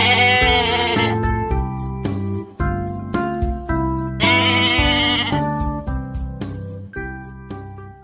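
A goat bleating over a cheerful children's phonics song, the wavering animal cry blending with bright melodic music that plays loudly throughout.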